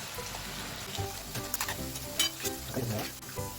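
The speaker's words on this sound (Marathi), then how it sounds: "अशा प्रकारे आता आपण सर्व भजी तळून घेऊया" Cabbage bhaji frying in hot oil, a steady soft sizzle with faint stirring clinks and bubbling pops over a few seconds.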